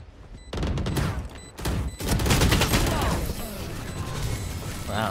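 Heavy gunfire rattles through a round of Valorant on the Bind map: dense overlapping bursts and booms, loud and close, continuing almost without a break after a short opening lull.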